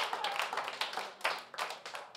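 A crowd at a live open music session claps along in a steady rhythm, the hand claps dense and bright, moderately close, with no talking over them.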